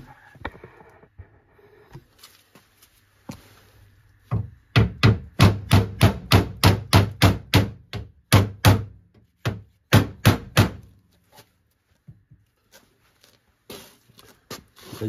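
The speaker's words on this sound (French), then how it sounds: "J'ai le manche du marteau qui tape sur la partie du haut avant que ça tape en bas." A hammer strikes metal inside an Austin Mini engine bay in a fast run of loud, sharp blows, then slower spaced hits, with quiet pauses before and after.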